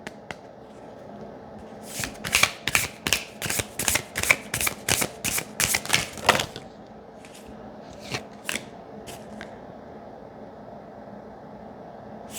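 Tarot cards being shuffled by hand, a quick series of crisp riffling bursts, then a few scattered softer flicks, close up against a low steady room hiss with no talk.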